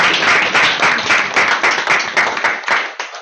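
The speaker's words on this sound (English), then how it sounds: "I didn't ask for a clap, but I think it's good that you clapped for me" A live audience in a Bhagavatam class gives a steady round of applause, many hands clapping close by for about three seconds before it tapers off.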